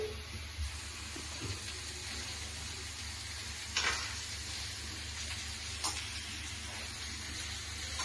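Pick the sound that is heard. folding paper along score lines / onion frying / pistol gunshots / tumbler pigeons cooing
onion frying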